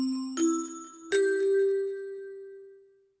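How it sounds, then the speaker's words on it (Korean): A ding-dong announcement chime in a Korean TOPIK listening exam: two clear bell tones struck in turn, the second ringing out and slowly fading over about two seconds, heard alone. "딩동댕 하면서 나옵니다."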